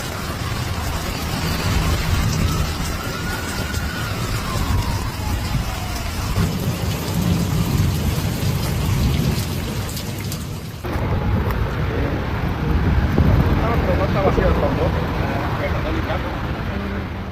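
Heavy rain pours steadily during a thunderstorm in Houston, with rumbling thunder rolling beneath a dense, continuous hiss of downpour that hits hard throughout.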